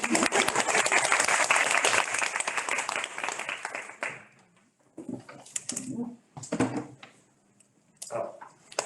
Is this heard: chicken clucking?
no